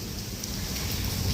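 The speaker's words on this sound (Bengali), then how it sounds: "এই যে বৃষ্টি পড়ছে আমার তো খুবই ভালো লাগে" Steady rain falling, a dense even hiss with no pauses throughout the short stretch.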